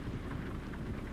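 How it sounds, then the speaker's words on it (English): Steady, dense rain hiss from American Truck Simulator, a brief continuous wash of falling rain with a low rumbling undertone and no voices. "right now it's just all we're getting is rain"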